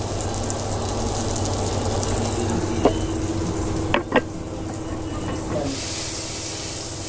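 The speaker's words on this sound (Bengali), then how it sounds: "পটল ভাজা হচ্ছে, দেখো" Pointed gourd frying in a pan, a steady broadband sizzle running throughout with a few brief clinks of stirring utensils near the middle.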